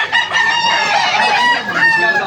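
A Boston Roundhead gamefowl rooster crows loudly and close by at a crowded early-morning tiangge market in Malolos, a long strained call with a faint voice in the background.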